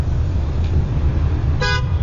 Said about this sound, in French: et ça klaxonne.